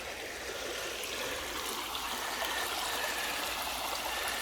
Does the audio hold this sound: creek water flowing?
yes